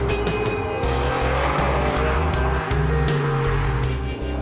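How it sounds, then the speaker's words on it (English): A Pagani Zonda supercar drives fast on mountain roads, its engine holding a loud, smooth, steady drone with brief gear-change dips while tires squeal through the corners. "The engine is fantastic. It's silky smooth like a turbine."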